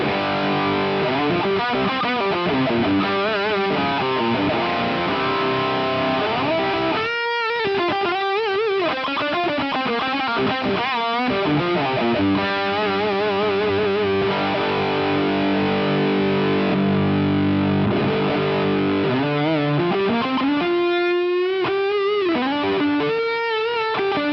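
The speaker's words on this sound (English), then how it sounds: "Let's have a listen to what it sounds like running boost into fuzz." Electric guitar played through an MXR-style drive boost feeding a fuzz pedal model on a multi-effects unit, giving a thick, saturated, sustained fuzz tone with chords and bending lead notes. It plays continuously for over twenty seconds, alone and without talk.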